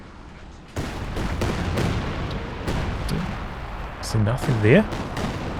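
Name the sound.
Katyusha rocket barrage in video game Company of Heroes 2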